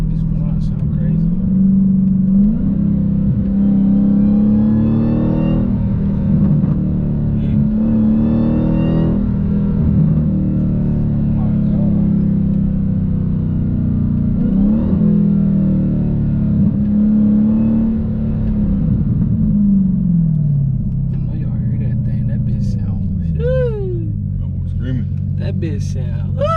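A Dodge SRT Hellcat engine rumbles and revs while street drifting, with a deep, continuous roar heard from inside the car, rising and falling in pitch through repeated throttle surges.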